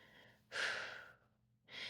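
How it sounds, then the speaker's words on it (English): A slow, soft exhale during a calm breathing exercise, a single breath out that fades gradually, followed by the start of another breath, quiet and close with no talking. "just take a nice breath out when you're ready"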